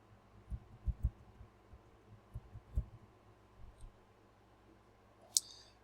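A computer mouse clicks faintly and sparsely in a quiet room. Single light clicks and a few quick pairs are irregularly spaced, with one sharper tick near the end.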